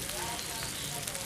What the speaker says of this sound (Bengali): আদা রসুনটাকে একটু ভেজে নিচ্ছি